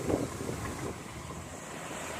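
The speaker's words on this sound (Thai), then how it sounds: "โอ้ลมแรงมากเลยนะคะวันนี้" Strong wind buffets the microphone outdoors beside a Kubota DC 70G rice combine harvester in a paddy field, a steady close rumbling roar with no clear speech.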